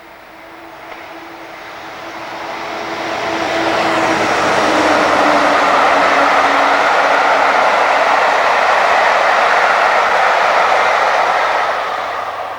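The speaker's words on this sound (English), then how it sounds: "A tour organised by Worksop Depot in June saw a pair of 58s head for Weymouth." A pair of British Rail Class 58 diesel locomotives haul a train bound for Weymouth, approaching with a rising engine drone and rumble that peaks into a sustained roar, then begins to ease as it passes.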